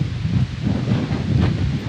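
Strong wind gusts buffet the microphone, a loud rushing roar that swells and dips in waves over a couple of seconds.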